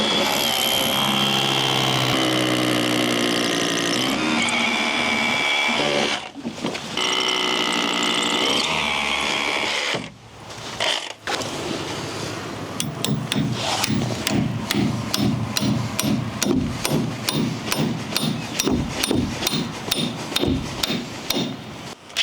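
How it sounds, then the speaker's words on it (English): A Bosch 18V impact driver working as an impact wrench on dyno bolts, starting with a long continuous whirring run and then breaking into rapid repeated hammering bursts, loud and close with brief pauses between. "we're going to see how powerful this is as an impact wrench"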